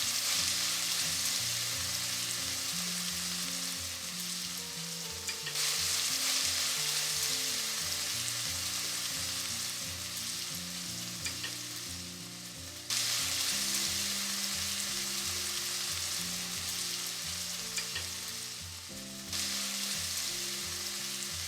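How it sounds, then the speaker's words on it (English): Onions, chilies and ginger garlic paste fry in a pan for restaurant-style chicken biryani. The sizzle is continuous and moderate, broken by repeated spatula stirs and scrapes, with no talk. "you can add the chilies and ginger garlic paste and start stirring them as soon as you add ginger garlic paste"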